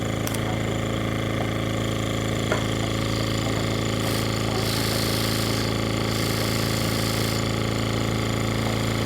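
A handheld SCU 70 12V DC air compressor runs steadily close by, a continuous mechanical drone and buzz holding level from start to finish with no talk.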